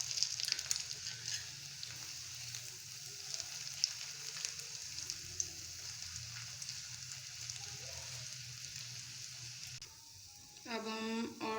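Egg roll pieces sizzling steadily in a hot pan, a continuous close crackle and hiss throughout, with a short clatter of utensils near the end.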